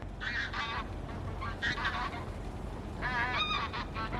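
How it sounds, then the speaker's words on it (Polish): A skein of geese flies overhead, their honking calls coming in three distinct bursts over steady outdoor background noise, moderately distant and fairly faint. "Zobaczcie jaki klucz ptaków leci."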